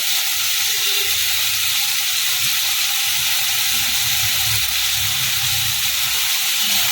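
Snake gourd sautéing with a little ghee in a pan gives off a loud, steady sizzle and hiss that holds evenly from start to finish, with faint stirring underneath.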